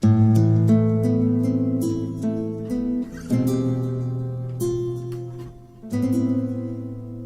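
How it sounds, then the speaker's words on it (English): Slow, gently picked acoustic guitar chords from a Korg Pa keyboard's ambient acoustic guitar sound, bathed in long reverb and soft echoing repeats, each chord ringing out and blending into the next. "I've called it ambient acoustic guitar, and it sounds like this."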